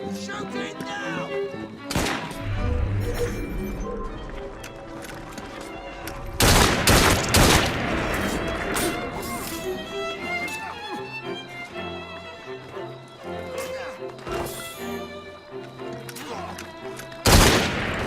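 Gunfire bursts in Assassin's Creed Syndicate, with loud volleys near 2, 6.5–7.5 and 17.5 seconds over a continuous musical score and battle noise, with voices talking in between.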